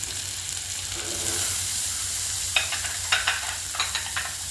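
Onions frying in butter in a pan for kothu parotta, a continuous close sizzle that swells after the onions go in, followed by a few sharp stirring clatters.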